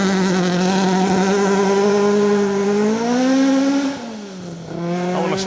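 A Mark II Escort rally car on a Welsh forest stage screams past at high revs, its engine loud and sustained, with pitch climbing, then dropping sharply as it backs off, before picking up again.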